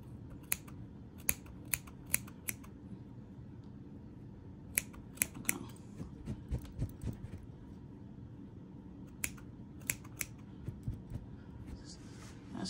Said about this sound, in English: go in on each side and just start trimming